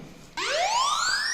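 A mobile phone's anti-theft alarm blares a rising electronic siren wail the moment the handset is picked up, loud and close, after a brief quiet lead-in with no talk.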